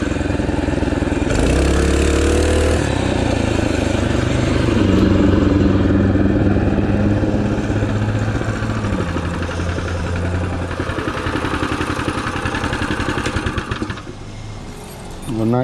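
A small 212 or 224 mini race bike engine revs loud and close on a night road race, with harmonic pitch sweeps rising and falling throughout and voices talking over it.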